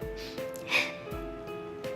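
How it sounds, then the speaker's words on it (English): A young girl sniffles quietly in the video game Persona 4, giving a few short, soft nasal sniffs spread across a calm background of faint tones. "Nanako is sniffling."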